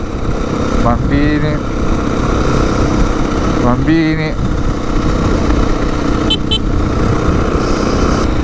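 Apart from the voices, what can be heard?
passing scooter engine in Marrakech street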